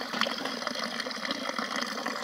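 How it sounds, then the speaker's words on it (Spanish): A drinking water fountain in a village on the Camino de Santiago near La Faba, León, running steadily nearby with a continuous splashing, gurgling flow and no voices over it. "Aquí hay una fuente de agua potable."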